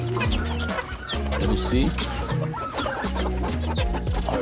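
Chickens kept together with turkeys on a multi-bird farm, clucking and squawking densely and close by in continuous overlapping bursts, with a brief spoken phrase among them.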